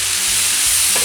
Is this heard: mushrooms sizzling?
yes